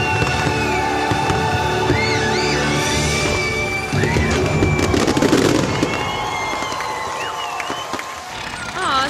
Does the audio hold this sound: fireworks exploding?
yes